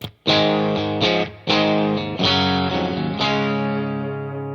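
Heavily distorted electric guitar playing sustained chords through an amp, several struck chords ringing out loudly and fading slowly, with no voices.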